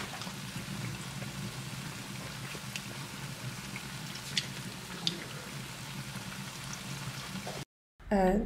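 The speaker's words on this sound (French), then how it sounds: "nos beignets sont en train de frire" Puff puff, African beignets, deep-frying in hot oil: a steady, close bubbling sizzle with a few sharp pops, cut off abruptly near the end before a brief burst of other noise.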